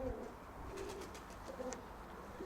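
Domestic pigeons outdoors, with soft, faint cooing calls repeating a few times over steady background noise.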